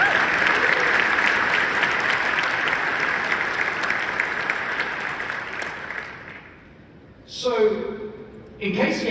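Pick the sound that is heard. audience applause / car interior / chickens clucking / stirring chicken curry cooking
audience applause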